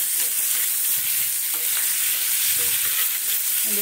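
Potatoes fry in a pan with a loud, continuous, bright sizzle that never lets up, plus a few faint scrapes of stirring underneath, and no one speaking.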